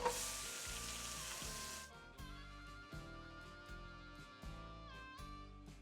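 Onions sizzle steadily in melted butter in a pan, a continuous crackling fry with occasional soft clinks and stirring, and no voices.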